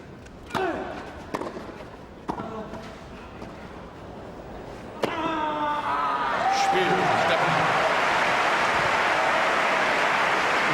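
Tennis crowd at the 2006 Hamburg final applauding, a broad steady wash of clapping that swells in after a few sharp racket and ball hits and holds loud to the end.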